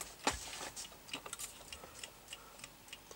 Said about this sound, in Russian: Тут зрители еще спрашивают, что это у меня тикает там за кадром.